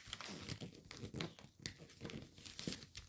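Origami paper folded into a fighter jet model, producing continuous close crinkling and soft crackling as layers are pressed and creased, fairly quiet and steady without speech.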